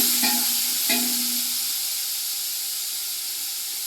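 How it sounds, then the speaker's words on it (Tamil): Fish curry being tempered in a pan on a gas stove gives a continuous close hiss and sizzle, with two short clinks of a utensil near the start. "உள்ள கேஸில் வந்து குழம்பு தாளிச்சிட்டு இருக்கிறேன்."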